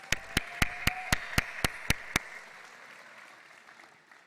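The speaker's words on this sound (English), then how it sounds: "Let's give us a big round of applause" At a graduation ceremony in Dubai, about nine sharp, evenly spaced claps ring out in a steady rhythm before fading into a soft room echo.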